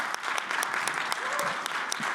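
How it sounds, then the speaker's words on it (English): Audience applause at a CES neurotech conference session, a dense, steady clapping from a crowd indoors that carries on evenly throughout. "Can I get an applause for these amazing speakers?"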